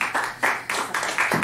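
An audience at a real estate investors' seminar gives a round of applause for the speaker's wife Deborah, with about six distinct, fairly close bursts of clapping in quick succession.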